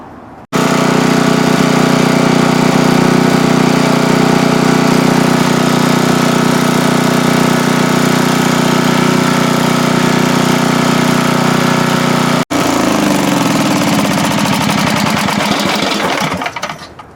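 A Sears portable generator's small engine, under repair with a stator and rectifier fault, runs at a loud steady drone for about twelve seconds, cuts out abruptly, then sputters and winds down unevenly before stopping.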